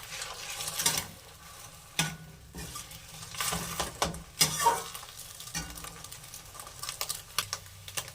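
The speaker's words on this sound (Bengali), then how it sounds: "কড়ার মধ্যে ডিম দিয়ে দিয়েছি। ডিমটা এবার ভুজিয়া বানিয়ে নেব পাস্তাতে দেওয়ার জন্য।" Eggs fry in a wok while a spatula stirs and scrapes against the pan, giving a soft sizzle broken by irregular clinks and scraping knocks, moderately close.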